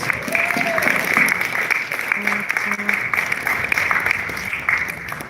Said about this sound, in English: Have another round of applause for our lovely sponsors.